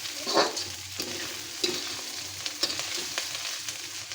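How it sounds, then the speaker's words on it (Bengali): Small chanda fish sizzle steadily in hot oil, frying crisp, with occasional scrapes and clinks of a utensil against the pan, no voices. "চান্দা মাছটা কিন্তু আমার মুচমুচে করে লাল লাল করে ভাজা হয়ে গেল"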